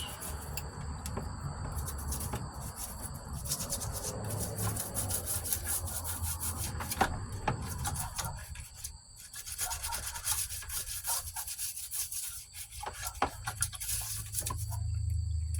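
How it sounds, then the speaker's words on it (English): A putty knife scrapes components off a circuit board in a steady, continuous rasping scrape that runs close and fairly quiet, with no voices. "So I just take a putty knife when I get a whole bunch of these, scrape them off all at once"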